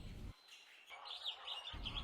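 Parrots give high, shrill chirps and squawks in short bursts, set against a muffled low thumping background, fairly faint and with no talking.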